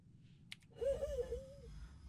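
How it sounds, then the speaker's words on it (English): A character in the game Star Citizen lets out a drawn-out strained gasp with a wavering wheezy tone. A short click comes before it and a low rumble of background noise sits underneath. "Can still hear that horrible gasping noise."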